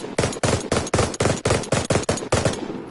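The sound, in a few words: light machine gun (LMG) firing in bursts, video game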